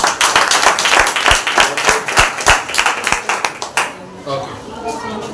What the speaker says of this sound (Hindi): हम पास्टर डगलस का स्वागत करते हैं जोरदार तालियों के साथ